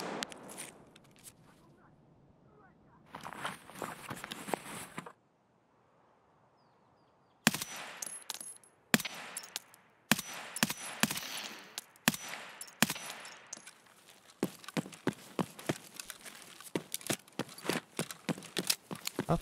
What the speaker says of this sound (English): Here come all the weird suppress shots